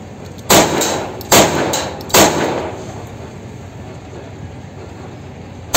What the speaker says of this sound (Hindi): अभी इस पर टेस्टिंग फायर करते हैं